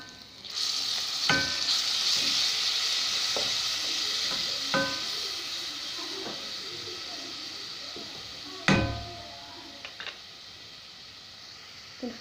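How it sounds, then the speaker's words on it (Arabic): Garlic, egg and harissa spice mix frying in a pan, giving a steady close sizzle with a few sharp clicks and taps of a utensil against the pan. "كنخليو هاد العطريه كتشحر مزيان، ماشي تحرق"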